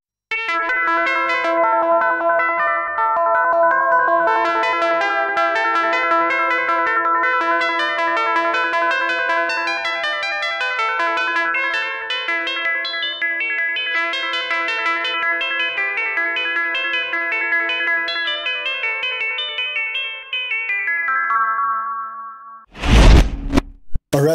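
A Behringer 2600 synthesizer patch, its oscillator running through a filter opened by an ADSR and a VCA shaped by an AR envelope, plays sustained, overlapping melodic notes for about twenty seconds, ending with a short, loud noisy burst.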